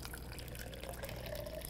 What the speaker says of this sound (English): And you're gonna take boiling water